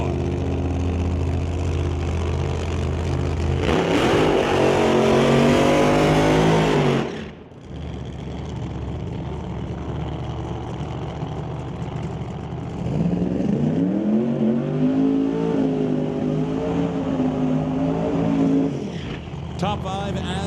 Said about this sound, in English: Steve Horn brings up the JS Power Sports and SLR Rental Willys from 1941, racing against Ryan Hayward